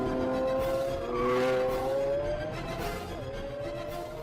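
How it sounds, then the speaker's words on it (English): A Lamborghini Aventador V12 engine revs, sweeping up and down in pitch, a smooth sustained whine with rising and falling tones, fairly close. "This 12-cylinder symphony has a full range, from a moderate rumble through the town at low revs"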